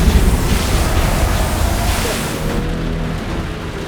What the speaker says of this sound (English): The wind's blowing too hard.